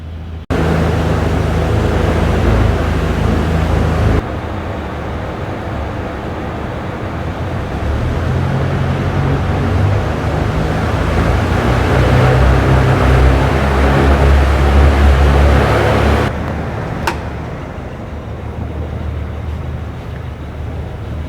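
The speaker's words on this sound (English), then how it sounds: "Well, that engine's running absolutely beautiful. I haven't seen a Jabiru idle as smoothly as that." A rebuilt Jabiru 3300 Gen 4 aircraft engine idling during a ground run-up, a steady loud low drone that shifts level once partway through and then drops off near the end.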